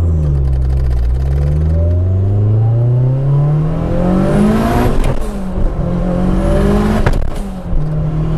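A Mitsubishi Lancer Evo VI launches hard from a standstill, its engine climbing steeply through loud, close revs with brief gear-change dips and then pulling again, with no talk over it.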